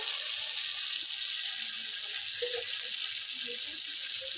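Ginger paste fries in a pan for a vegetarian ridge gourd dish. A steady, bright hiss of sizzling fills the whole stretch, with faint low clatter underneath.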